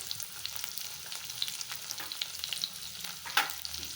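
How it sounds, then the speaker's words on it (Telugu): Baby corn with capsicum, chilli and garlic stir-frying in a pan for baby corn Manchurian, a steady close sizzle with scattered spatula clinks and scrapes and one sharper clatter near the end, no talking. "ఇది కూడా లైట్ గోల్డెన్ కలర్ వచ్చే వరకు ఫ్రై చేసుకోండి."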